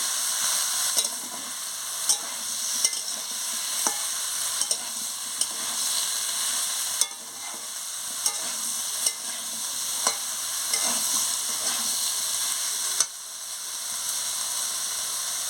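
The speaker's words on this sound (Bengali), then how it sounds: "এবার আমি ঝিঙেটা দিয়ে দিচ্ছি ঝিঙে দিয়ে ভালো করে নাড়িয়ে নেব কষিয়ে নেব" Ridge gourd sizzles and fries in a pan for a poppy-seed dish. A steady, close hiss of frying is broken by regular scrapes and knocks of stirring.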